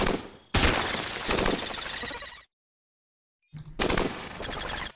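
Grenades explode in the video game Cogmind: loud, dense crackling bursts roll on for a couple of seconds, cut to silence, then erupt again, with no voices over them.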